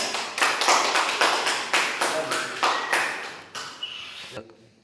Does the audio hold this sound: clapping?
yes